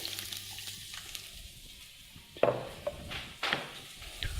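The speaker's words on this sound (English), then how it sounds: "a good way to test is to put a piece in and it's sizzling, so you know it's nice and hot" Vegetables sizzle quietly in a hot pan, with a few louder crackles and light clatters of utensils against the pan.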